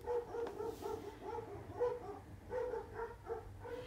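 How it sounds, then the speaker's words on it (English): Pet dogs indoors bark repeatedly at dogs being walked past outside, a muffled run of rhythmic barks and yips at moderate distance, fairly faint. "someone's walking dogs by outside. So my dogs, of course, are losing themselves."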